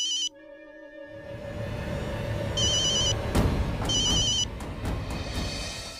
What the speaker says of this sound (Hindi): ये जरूर राधिका का फोन होगा